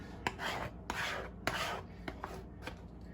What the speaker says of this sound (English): you can hear me mixing it. Basically, I'm mixing it on my palette